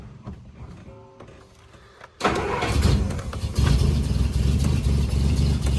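A Plymouth P15 with a 12-volt conversion turns over after the pedal is pumped: brief whirring and clicks, then a sudden catch into a loud, rough, steady engine run close by, with no talking.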